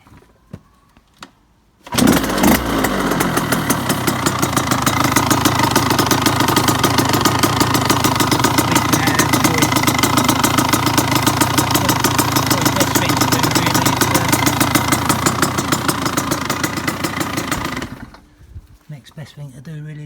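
A KTM 85 dirt bike, just out of months of storage, starts abruptly and runs at a fast, steady two-stroke idle for about sixteen seconds, loud and close, then cuts off into quiet.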